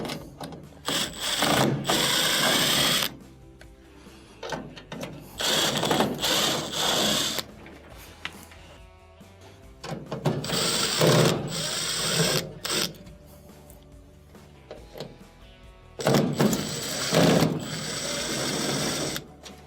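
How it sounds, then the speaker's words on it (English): A powered screwdriver backs out the Phillips screws on the front of a gas range during a burner valve repair. Four long bursts of whirring motor noise sound close by, separated by brief pauses, with no talking. "remove the 4 Phillips screws that are on the front"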